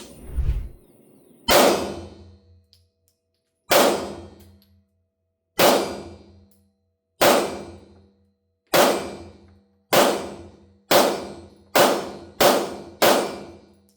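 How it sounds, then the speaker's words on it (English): A Laugo Arms Alien pistol fires a magazine, giving about ten sharp, loud reports with ringing decay, spaced widely at first and then coming faster toward the end, with no talking. "So I'm gonna shoot the first mag and give you all my thoughts."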